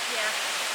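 Steady, dense rush of a massive waterfall roaring close to a hiking trail at Ricketts Glen State Park, Pennsylvania, a continuous broadband wash with no breaks.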